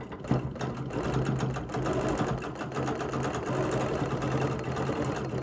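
A sewing machine stitches a quilt block, a steady, fast mechanical whir with a rapid needle chatter, close and continuous for the whole stretch with no talking.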